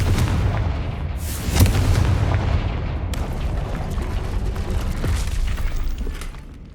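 A Confringo fire spell exploding in the Hogwarts Legacy video game: heavy booming blasts with a rumbling, crackling tail, loud and close, then fading.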